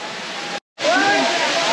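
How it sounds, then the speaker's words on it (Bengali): Khoiyachora waterfall pours with a strong current, a loud, close, steady roar of falling water that cuts out for a brief moment and then returns, with a faint voice under the rush. "এই সেই খয়াছড়া ঝর্ণা, বিশাল বড় ঝর্ণা, প্রচুর স্রোতে পানি পড়ছে"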